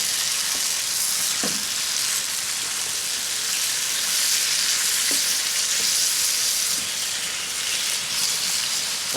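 Shrimp and beef frying in mushroom butter at an Adirondack campsite, a loud steady sizzle crackling without pause throughout, with a few soft clinks of stirring.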